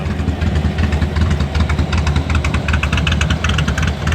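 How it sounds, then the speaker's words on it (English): A 1949 Buick Roadmaster Sedanette idles through its dual exhaust, a loud, close, steady low rumble with an even pulsing beat and a faint ticking layer on top. "I like that dual exhaust."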